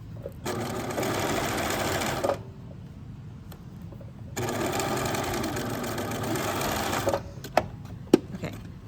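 A sewing machine stitches a seam on a button-up shirt in two steady runs of fast, even whirring, separated by a short pause, followed by a few sharp clicks and taps, with no talking.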